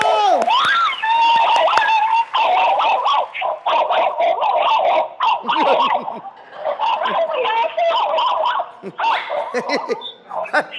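Several dogs bark, yelp and whine continuously, close and loud, with people's voices and laughter mixed in.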